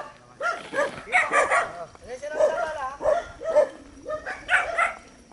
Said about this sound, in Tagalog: maingay ang mga aso nila